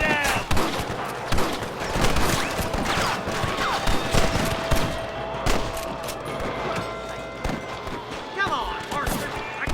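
Gunfire in a canyon shootout in Red Dead Redemption: a rapid, dense barrage of rifle and pistol shots cracking loudly and continuously, with shouting voices mixed in throughout.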